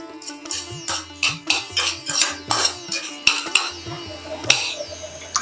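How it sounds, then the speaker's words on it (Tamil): Finely chopped small onions being sautéed in a pan, with a rhythmic series of loud, close metallic scrapes and clinks from a spatula, a low hum underneath. "பொடியா நறுக்கிய சின்ன வெங்காயம், ரொம்ப கோல்டன் ப்ரௌன் வர அளவுக்கு வதக்கணும்னு அவசியம் கிடையாது, லேசா வதக்கினா போறோம்."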